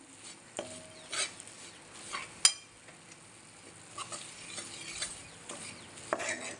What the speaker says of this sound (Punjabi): ਆਪਾਂ ਮੱਠੀ ਮੱਠੀ ਅੱਗ ਤੇ ਆਟੇ ਨੂੰ ਭੁੰਨ ਲੈਣੇ ਆ ਇਦਾਂ ਹੀ ਚਮਚਾ ਫੇਰ ਫੇਰ ਕੇ